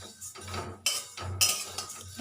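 Flattened rice (chira) dry-fried in a pan over low-to-medium heat, with a metal spatula scraping and clinking against the pan in a few separate strokes, close and fairly quiet.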